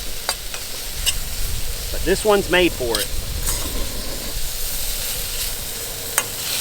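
A spatula scrapes food off the bottom of a case-hardened skillet during camp cooking of pastalaya as fat renders: continuous loud sizzling with sharp intermittent scraping clicks, briefly under a voice.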